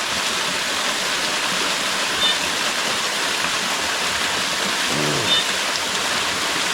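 A forest waterfall beside a cliff gives off a steady, even rush of falling water, moderately quiet and unbroken throughout, with a faint brief knock partway through.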